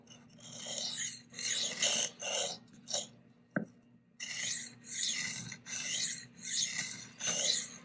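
A knife is sharpened freehand on a stone, making repeated loud rasping strokes in a steady rhythm. One short click and a brief pause break up the grinding, then the strokes continue.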